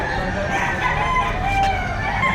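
A rooster crows at a livestock auction market in Padre Garcia, Batangas, its drawn-out call rising over a busy, murmuring background of other fowl and market noise.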